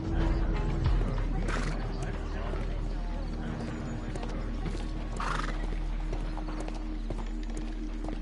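A horse whinnies over a steady low hum and background bustle, with occasional hoof clops, in a busy synthetic-sounding scene from the video game Sherlock Holmes: The Devil's Daughter, at a street traffic accident.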